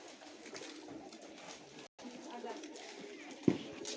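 Pigeons perched up high in the sun coo softly in the background of an outdoor farm yard where goats are kept, with a steady low ambient hum and a brief thump near the end.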